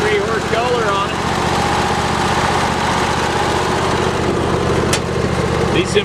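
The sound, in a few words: Simplicity Conquest riding mower, 23 hp Kohler engine running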